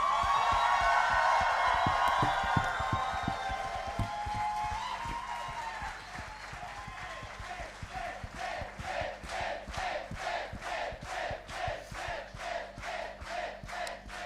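Audience at a Drag Idol 2025 final drag show cheering loudly, a dense crowd roar with whoops that gives way to steady rhythmic clapping in unison.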